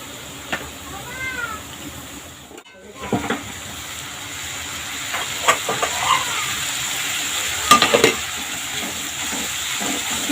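Turmeric, coriander and cumin powder frying in oil for an aloo potol curry, a steady hiss and sizzle with scattered stirring clatter and brief cat meows over it, no speech.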